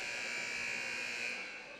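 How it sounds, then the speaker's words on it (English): A buzzer sounding at a high school volleyball championship match in a gym, a single steady electronic tone held for almost two seconds, fairly quiet and alone. "as the buzzer goes off"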